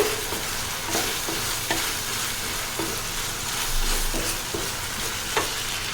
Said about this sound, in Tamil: நம்ம எப்போவுமே இஞ்சி பூண்டு பேஸ்ட்டை வதக்கும் போது சிம்மில் வச்சு தான் வதக்கணும்